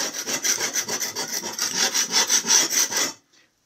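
Flymo hover mower blade being sharpened, a rhythmic run of rasping back-and-forth filing strokes, close and fairly loud, about a dozen quick passes before stopping abruptly.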